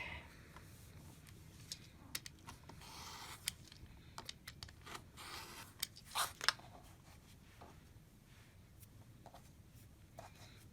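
Scissors snipping quilt fabric at close range with soft, irregular crisp cuts and small rustles at low volume, a few sharper snips clustered in the middle, without speech.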